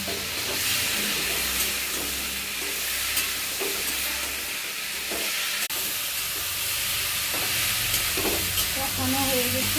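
Potatoes with turmeric and spices being sautéed in a pan, a loud steady sizzle and hiss broken by repeated scraping and stirring strokes of a spoon against the pan, with no talking.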